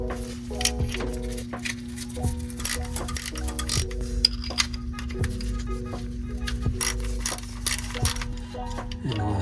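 Screws being driven back in over the ignition coils of a Daihatsu Hijet during a spark plug change, with steady ratcheting clicks and metallic taps running throughout, close and fairly loud.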